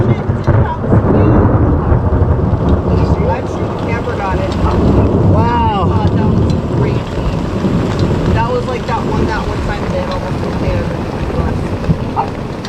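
Heavy rain pours down outdoors on a homestead yard during a thunderstorm, a loud, dense roar of rainfall with wind buffeting the microphone and a brief rumble or rushing sweep partway through.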